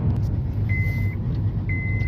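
A 2010 Honda Civic cruises along a road with a steady low engine and tyre drone, and two short, clear electronic beeps sound about a second apart.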